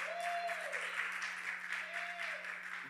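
Scattered applause rises from a church congregation during a sermon, a soft continuous patter of clapping with a faint voice carrying over it.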